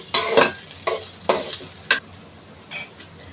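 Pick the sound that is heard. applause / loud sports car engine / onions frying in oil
onions frying in oil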